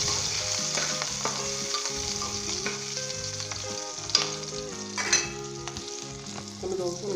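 Green chillies frying with golden garlic in a pan for a Punjabi white brinjal masala, a steady sizzle running throughout, close and fairly loud, with some stirring and music playing over it.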